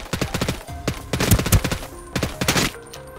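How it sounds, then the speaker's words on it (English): Gunfire in Ring of Elysium, a fast string of sharp shots in several bursts with brief pauses, loud and near, some heavier thumps among them. "I hear shots"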